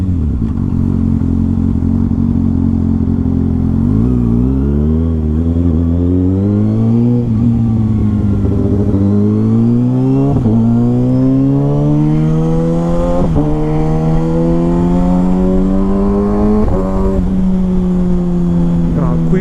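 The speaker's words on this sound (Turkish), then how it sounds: "shifter sesine bayılıyorum ya. Egzozla beraber olunca dehşet ya." A 2022 Kawasaki ZX-6R with an M4 exhaust and quickshifter revving hard through the gears, loud exhaust roar rising in pitch with sharp quick shifts between, continuous and close.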